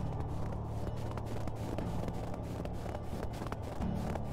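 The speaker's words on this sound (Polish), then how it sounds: "Fajnie skrzypi śnieg. Lubię ten dźwięk, jest strasznie satysfakcjonujący." Footsteps crunch and creak through snow in the medieval survival game Medieval Dynasty, a steady walking rhythm of soft, regular steps over a low background drone.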